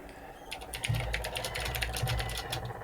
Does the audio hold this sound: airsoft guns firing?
no